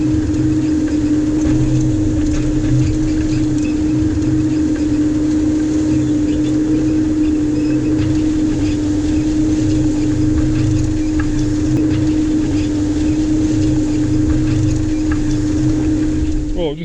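A tractor pulls a JCB combined rake and baler through a field, a loud, steady engine drone with constant machinery rumble close by and a voice talking over it.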